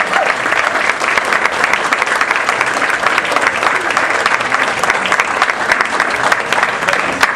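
Sustained audience applause fills a pub during an ethics quiz-style slam event, dense and steady throughout at close range with no break.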